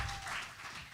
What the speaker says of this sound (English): That applause, that appreciation does not match up what you just got